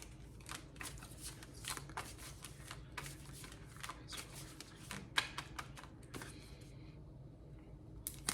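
A deck of oracle cards shuffled by hand, making quick repeated riffling flutters and soft slaps in an irregular rhythm, close and fairly quiet, with a brief pause near the end.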